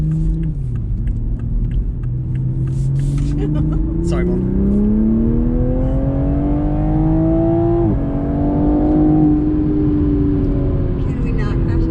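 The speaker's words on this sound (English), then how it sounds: "It sounds so good for a stock exhaust." A 2021 Toyota Supra on its stock exhaust revs steadily while being driven, the engine note climbing in pitch and holding loud and close throughout, with people talking over it.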